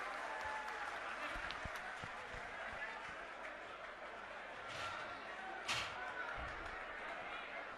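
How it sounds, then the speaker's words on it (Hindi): A crowd at a political speech to DTC bus staff applauds for Manish Sisodia with faint, distant clapping under crowd noise, and a few louder thumps stand out. "मनीष सिसोदिया जी, इनके लिए जोरदार तालियां बजाइएगा"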